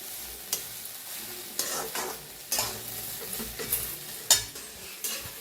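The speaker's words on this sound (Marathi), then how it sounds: "असं छान भाजून घ्यायची बघा गवारी गवारी जेवढी छान भाजेल तेवढी छान भाजी होणार आपली" Cluster beans (gavar) roast in a pan for a vegetable dish, with repeated scraping stirs of a spatula at an uneven rhythm over a continuous close sizzle, and one sharper clank of metal near the end.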